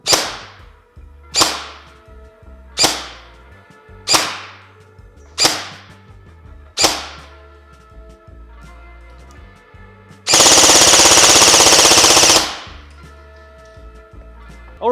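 A G&G SSG-1 airsoft carbine replica fires 0.2 g BBs on an 11.1 V battery during a chronograph test: six sharp, evenly spaced single shots ring out loud and close, followed by a roughly two-second full-auto burst.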